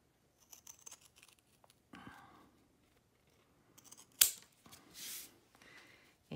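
A few soft snipping and rustling sounds of scissors cutting material, close but quiet, with scattered pauses and one sharper crinkle.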